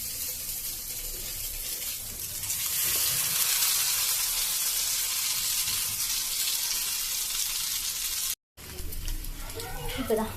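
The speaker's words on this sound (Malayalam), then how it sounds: "ബ്രെഡ് നമ്മൾ മിക്സ് ചെയ്ത് വെച്ച ഇതിൽ മുക്കിയിട്ട് എണ്ണയിലിട്ട് എടുക്കാം" Batter-dipped bread slices frying in hot oil, giving a loud, steady sizzle that swells after a few seconds and persists, with a brief cut near the end before the hiss returns.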